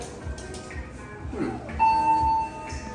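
A short bright electronic chime rings out as an elevator arrives at the Courtyard Crystal City hotel in Arlington, Virginia, a single sustained tone heard over quiet murmuring and low background hum.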